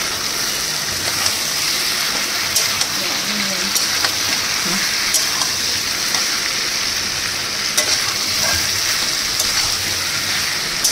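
Slit green chillies frying in a pan, a loud steady sizzling hiss with occasional sharp crackles and pops, close up and continuous, with faint background voice.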